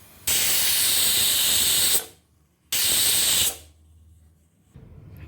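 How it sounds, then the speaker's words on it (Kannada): A kitchen pressure cooker on the stove vents steam in two loud, sharp whistling hisses, the first lasting close to two seconds and the second shorter, with a faint low hiss and rumble between bursts. "2 ವಿಜಲ್ ಬರೋ ತನಕ ಕೂಗಿಸ್ಬೇಕು."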